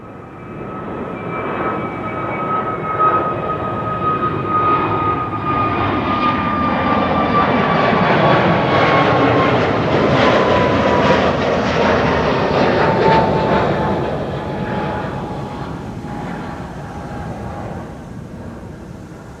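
A Transavia Airbus A321neo departing Schiphol, a loud swelling roar with falling whistling tones as it passes close, building for several seconds, holding, then fading away.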